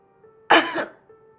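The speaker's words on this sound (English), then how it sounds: "some pony coughed" One short, close cough from a pony breaks a near-silent background, sharp at the start and fading quickly.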